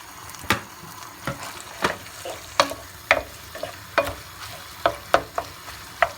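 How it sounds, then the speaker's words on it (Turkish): Chicken and mushrooms sizzle in a pan of olive oil, with regular scraping stirs clicking every half second or so, close by and moderately loud. "Birlikte biraz kavrulsunlar tavukla mantarımız."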